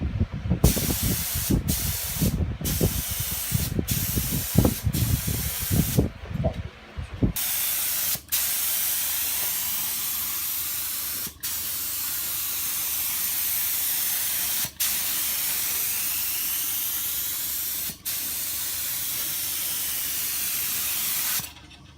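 Spray gun laying thin coats of primer surfacer onto auto body panel repair work: a series of short hissing bursts, then one long continuous close spray pass broken by a few brief pauses, with no talking.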